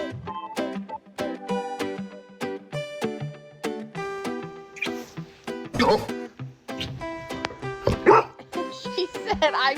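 A dog guarding its family barks repeatedly in short bursts, loud and close, among harmonic music and scattered voices.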